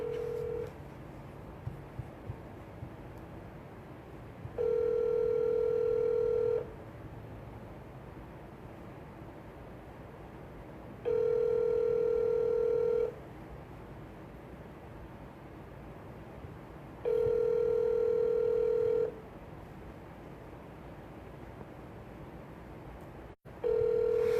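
Phone ringback tone while calling a property seller for a wholesale real estate deal: three long, evenly spaced rings of about two seconds each, separated by several seconds of quiet line hiss, with a brief burst at the very end.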